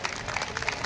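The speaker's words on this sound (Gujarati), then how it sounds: "એમનું આપણે સૌ તાળીઓથી શાબ્દિક સ્વાગત કરીએ છીએ" Audience clapping at a BJP women's wing convention in Ahmedabad, a brief burst of dense, steady applause from a crowd, close and fairly even.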